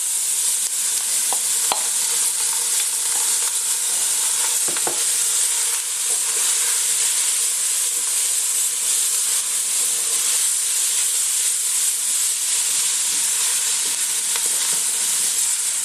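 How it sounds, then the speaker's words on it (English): Aromatics sizzle and hiss loudly in a pan of roux, a continuous bright frying crackle with a few faint clicks from stirring and no talk. "What we're going to do next is add these aromatics, and it's going to be a big and wonderful sound and a cloud of delicious steam."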